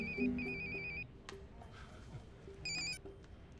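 A phone ringtone chirps in short repeated electronic bursts, two rings close together, then another after a pause, over quiet room noise.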